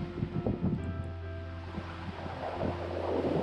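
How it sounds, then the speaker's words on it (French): Ocean waves and wind around a sailboat at sea as a squall approaches, a rushing wash of surf and gusts with a low steady hum underneath, swelling louder toward the end. "les vagues commencent à se lever"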